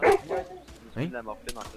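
A pet dog barks and yips near the microphone in short bursts, mixed in with people talking over voice chat.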